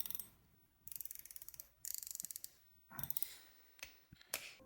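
A Tsurinoya Francis Pro spinning fishing reel is turned by hand, giving bursts of fast, even ratchet clicks from its gears, close and crisp, with pauses and a few lighter mechanical clicks between turns.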